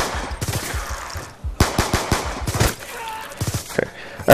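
A Peacekeeper gun fires in Black Ops video game play, loud bursts of rapid automatic shots in several clusters with short pauses between, plus a few other game effects.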